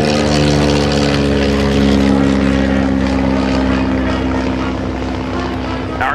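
A de Havilland Chipmunk propeller plane drones loudly and steadily close by at an airshow flyby, its engine hum filling the air as it passes.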